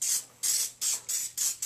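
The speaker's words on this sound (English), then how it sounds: "It is Pillsbury's baking spray with flour." Pillsbury baking spray with flour sprayed from an aerosol can in five short hissing bursts of roughly a quarter second each, close and fairly loud, with no talking.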